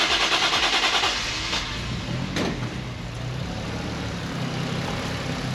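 Engine idling steadily with faint turbo spooling whistles and whooshes over a low rumble, a brief sharp transient near the middle, fairly close and continuous, on a vehicle fitted with an aftermarket lock kit.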